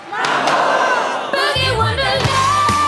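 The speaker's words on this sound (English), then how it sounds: "Give them a big round of applause." Loud crowd noise rings out at an ice skating celebration for the skaters, a swelling roar of cheering and shouts over music, with booming thuds and a synth melody underneath.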